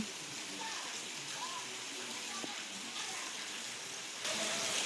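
Rain falling in a village makes a steady, broad hiss that continues throughout and grows slightly louder near the end, with faint distant sounds beneath.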